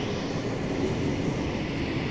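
Heavy rumbling roar of a metro train moving along the tracks, loud and close, a steady low drone with no voices.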